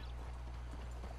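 Horse hooves clip-clop in Red Dead Redemption 2, a brief run of soft, rhythmic hoofbeats over a low, faint background rumble.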